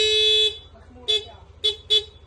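Stock horn of a Yamaha NMAX V2 scooter sounds in one sustained blast, then three short toots, loud and close, with a steady low idle hum underneath.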